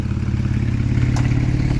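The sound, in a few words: Porsche 911 997 revving with valved sports exhaust open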